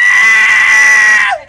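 A person's voice imitating a cat's meow: a single loud, sustained, nasal wail lasting over a second, then dropping off sharply at the end.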